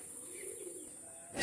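A pair of female pigeons, Pakistani Oman teddy type, cooing faintly in a steady low murmur with a thin constant hiss, ending in a brief louder rustle.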